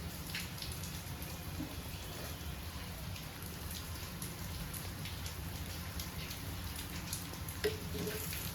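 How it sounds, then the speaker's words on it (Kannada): Coconut holige, a sweet flatbread brushed with a little oil, fries on a pan over low flame with a steady, even sizzle and a soft crackle throughout, with no talking. "ಸಣ್ಣ ಉರಿ ಮೇಲೆ ಫ್ರೈ ಮಾಡ್ತಾ ಇದ್ದೀನಿ."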